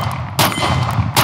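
Smith & Wesson M&P Compact 2.0 pistol shots, two sharp loud reports about a second apart with a ringing tail, close by.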